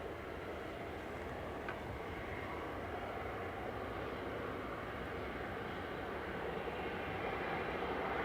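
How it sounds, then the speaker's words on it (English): A large jet airliner taxis at Manchester Airport, a steady broadband engine roar at moderate distance that holds evenly throughout with no voices. "So Welling's taxiing out."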